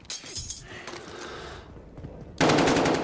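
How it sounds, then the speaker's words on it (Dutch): Machine gun fire in the Call of Duty: Modern Warfare campaign, starting as a distant rattle and bursting into a loud, sustained volley near the end. "En hij begint nu ook gewoon op ons te schieten, hè?"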